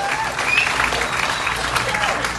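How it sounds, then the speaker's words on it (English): A crowd aboard a cruise ship claps and cheers for dance competition finalists, a fairly dense burst of applause with an amplified voice and whistling mixed in. "Let's give them a big round of applause,"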